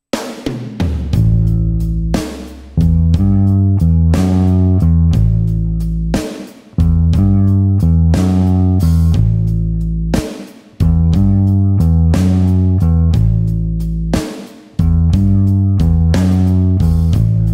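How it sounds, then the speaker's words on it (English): Bass guitar playing a 12-bar blues walking pattern of root, fifth, flat seventh and sixth, deep plucked notes in a steady repeating rhythm with short breaks between phrases, loud and close with no talking. "So from an interval point of view, those notes are the root, the 5th, the flat 7, and the 6."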